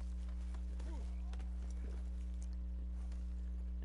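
Horse hooves clip-clop at a walking pace in the video game Red Dead Redemption 2, beneath a steady electrical hum, with voices talking faintly in the background.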